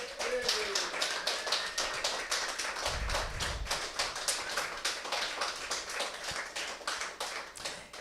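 Scattered hands clapping for an absent honoree at a community gathering, a steady patter of sharp individual claps running throughout at moderate distance, with a brief low thump midway.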